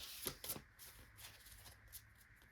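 Tarot cards are shuffled and drawn by hand, with a few quick, crisp riffling bursts followed by lighter slides and taps, faint and close in a quiet room.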